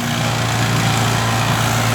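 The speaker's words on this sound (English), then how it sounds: "they have a wood chipper going crazy over here" A wood chipper runs steadily during tree removal, a loud, continuous engine drone with a strong low hum that holds level throughout, close by and with no talk over it.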